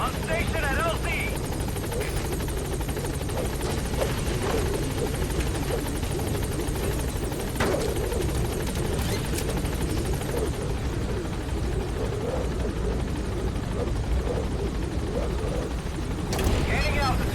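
A helicopter hovers on station at a landing zone in Metal Gear Solid V: The Phantom Pain, its rotor thrum loud, steady and close throughout, with a brief sharper burst near the end.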